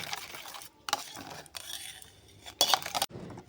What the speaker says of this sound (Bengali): এবার সব মশলার সঙ্গে খুব ভালো করে মেখে নিতে হবে দইটাকে।